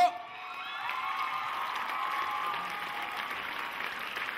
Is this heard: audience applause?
yes